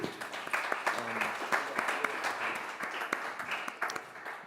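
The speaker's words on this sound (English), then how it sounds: "Could everyone give them a round of applause?" A crowd at a cross-chain identity panel salon applauds the panel guests, a steady wash of many clapping hands with a few cheers and voices mixed in, moderately distant.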